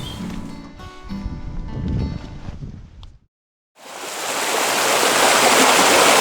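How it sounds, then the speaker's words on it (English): A river running high after a week of rain roars as a loud, broad, continuous rush in New Zealand bush, coming in after a short silence that follows other outdoor noise. "since it's been raining here for the past week or so, the river is actually a lot higher than usual"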